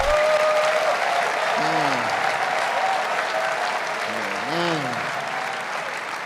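Congregation applauding at a church sermon, a steady dense wash of clapping filling the whole stretch, with brief voice-like tonal sounds rising over it twice.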